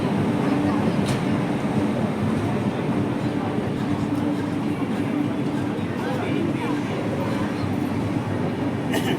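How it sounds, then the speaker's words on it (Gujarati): An Indian Railways train rumbles steadily and loudly as it starts to move, a continuous heavy mechanical drone with faint clanks, as voices talk over it. "ભારતીય રેલ આટલાથી ટ્રેન ચાલુ થઈ."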